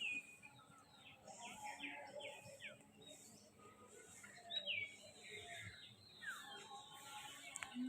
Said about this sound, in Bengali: চারিদিকে শুধু পাখি ডাকছে, কোকিল ডাকছে